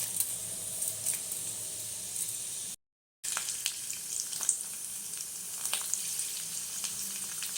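Fenugreek seeds fry in a little hot oil as a tempering for gongura chutney, giving a steady close sizzle with light crackles and a brief cut of silence.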